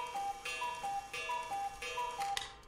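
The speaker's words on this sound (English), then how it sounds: "The cuckoo clock rang out." A cuckoo clock in the iOS game Banshee's Last Cry chimes in a steady repeating two-note pattern, each note clear and ringing over a quiet, slightly hissy background, with no voices.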